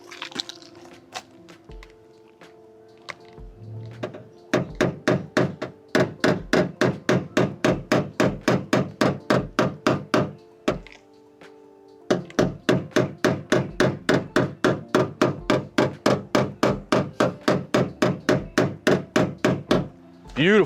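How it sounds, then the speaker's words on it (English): A dent repair hammer taps a car panel in two long runs of quick, evenly spaced metallic knocks, close and crisp, with a short pause between them and a brief moment of talking near the start. "I'm going to make my hammer longer so I can get further away."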